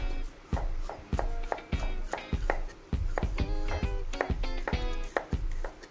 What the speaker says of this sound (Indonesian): Parenya dipotong tipis-tipis saja, teman-teman, biar cepat masaknya